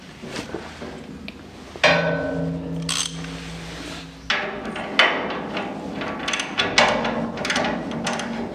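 Tools working a big bolt on the front driver's side lower control arm of a GT3 road race car chassis: a series of metallic clanks, ratchet clicks and knocks, close and irregular, in a quiet garage.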